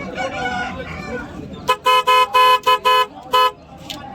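Rooster crowing at a Sunday country chicken market in Vijayawada among Salem-bred fighting cocks: a series of loud, close, harmonic crow bursts in quick succession, following a stretch of market chatter and background noise.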